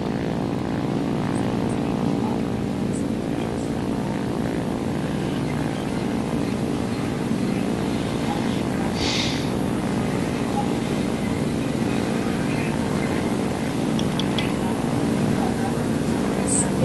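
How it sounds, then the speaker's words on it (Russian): Twin engines of a Pe-2 bomber in a flight combat video game drone steadily and loudly for the whole stretch, a dense, even propeller hum with little change in level. "Это ваши моторы, я слышу."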